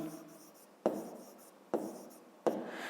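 Numbers are written by hand on paper in a quiet room, with three distinct pen taps and scratchy strokes at regular intervals, close and soft.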